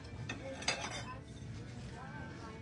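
Glass plates and bowls are handled in a household goods shop in Singapore, giving a few light clinks and chinks of glassware knocking together at close range over a quiet background.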